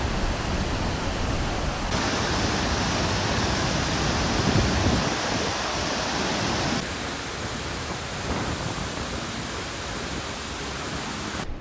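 Muradiye Waterfall swollen with spring snowmelt, a loud, steady broadband roar of heavy falling water heard close up and alone, shifting slightly in texture but never pausing.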